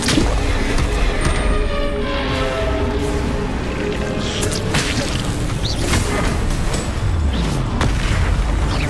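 Confringo fire spell impacts in Hogwarts Legacy combat, repeated whooshing blasts and thuds over a dense, continuous battle din, loud and close throughout.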